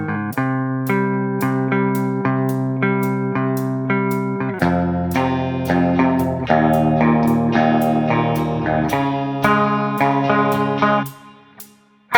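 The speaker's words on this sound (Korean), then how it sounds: "방금은 플랜저를 이용해서 연주해봤습니다" Electric guitar run through a flanger effect with a metallic, comb-filtered sweep, playing a steady run of picked notes and chords for about eleven seconds, close and loud, then fading out, no voices.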